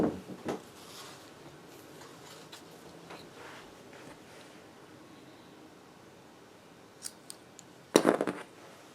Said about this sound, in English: Let me get my scissors and cut my red yarn off so it's not in our way.